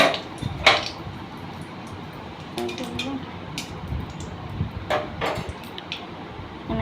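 Cinnamon and bay leaves being stirred in a cooking pan for a vegetarian ghugni: scattered light metallic scrapes and clinks at close range, with a person talking over them.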